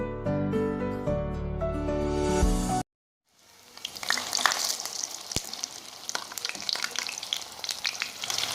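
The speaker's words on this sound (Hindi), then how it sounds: "अब हम फ्राई कर लेंगे।" Chicken shami kababs frying in a pan: after a brief burst of music and a moment of silence, a loud, crackling sizzle with sharp pops builds up and continues close by.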